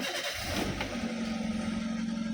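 A car engine cranks and catches, then idles roughly with an uneven, shaky low rumble, heard close and fairly quiet.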